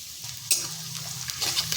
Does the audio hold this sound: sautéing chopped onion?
yes